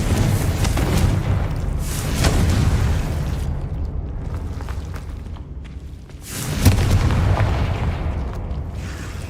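Confringo explosion spell in Hogwarts Legacy: heavy booming blasts and rumbling bursts, loud and close, with a second strong detonation a few seconds after the first and sustained roaring in between.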